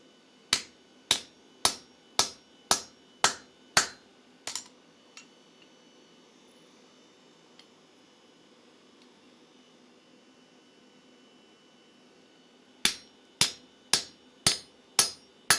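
Sharp metallic hammer blows punching a hole in hot steel, struck in a steady rhythm, a run of about eight, then a long quiet hum before another quick series of strikes.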